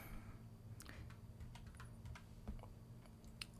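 Keys tapping on a computer keyboard, irregular clicks and short bursts at a steady typing pace over a low background hum, fairly quiet and close.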